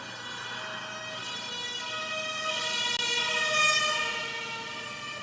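A wailing fire engine siren rises and swells as it approaches, peaking loud before beginning to fade, with layered tones sweeping steadily.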